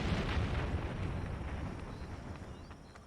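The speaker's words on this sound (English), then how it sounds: "Explosion." A loud, rumbling explosion in Final Fantasy XIV, with a heavy low-end roar that stays dense for about three seconds and slowly thins, with no voices over it.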